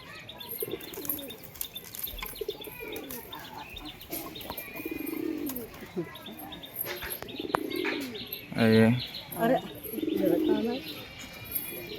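Pigeons coo and chirp through a busy outdoor scene during pigeon catching, with bursts of wing flapping and people talking over and between the calls.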